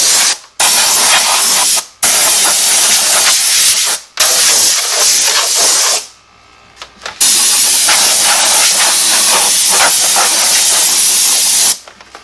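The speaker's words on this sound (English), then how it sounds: "the next thing we're going to do is blow off the engine bay." Compressed air blowing off the engine bay during an LT4 supercharger install, loud close hissing bursts of several seconds each, broken by short pauses and one longer gap.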